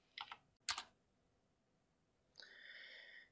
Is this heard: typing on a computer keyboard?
yes